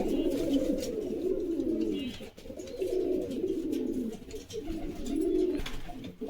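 Pigeons of a domestic breed coo in repeated soft, rolling phrases that rise and fall in a steady rhythm, close by and fairly quiet, with no talk over them.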